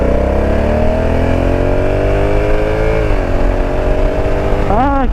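A 2021 Honda Africa Twin motorcycle engine revs loudly up close, its pitch climbing steadily, then dropping and rising again in a quick burst near the end.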